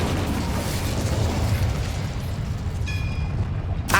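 The Incendio fire spell is cast in Hogwarts Legacy, producing a sustained rumbling, explosive burst of flame with a brief tonal chime near the end.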